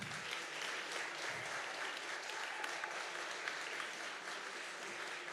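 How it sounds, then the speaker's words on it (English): Sustained, even applause from a crowd at an entrepreneurship innovation challenge final rolls on for several seconds without a break, bright and dense. "A round of applause for Jim and Megan."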